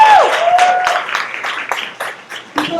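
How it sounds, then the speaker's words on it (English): An audience at a BOSS Network event gives a brief round of applause: a dense wash of clapping that swells and then thins out over a few seconds. "I just want to just give a round of applause for President Obama"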